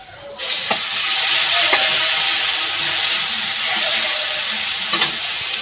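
Garlic paste hits hot oil in a pan for a prawn curry, giving a loud, steady sizzle and hissing fry with occasional soft clinks of a stirring spoon.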